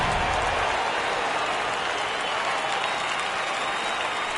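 A home baseball crowd applauds at a Rays vs Rangers game after a home run, sustained loud clapping and cheering that fills the stadium throughout.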